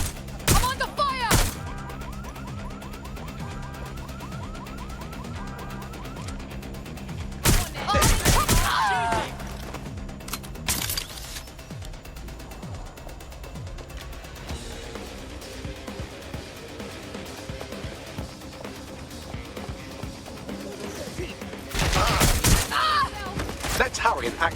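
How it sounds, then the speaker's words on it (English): Bursts of gunfire from a firefight in the video game Watch Dogs: Legion, with a few loud volleys standing out above a steady bed of game music and ambience, and some voices heard in between. "I'm under fire!"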